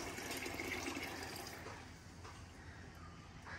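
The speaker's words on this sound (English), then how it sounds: "fill up the bucket, not all the way" Water running steadily into a bucket to soak tiger nuts, a soft continuous splashing pour that eases slightly toward the end, fairly quiet and heard alone.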